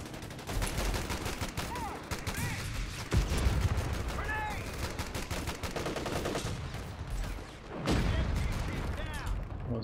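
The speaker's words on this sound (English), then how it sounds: "Airstrike incoming!" Airstrike explosions and gunfire in the World War II strategy game Company of Heroes 3, with continuous machine-gun rattle, heavy booming impacts and battlefield shouts mixed throughout, loud and close.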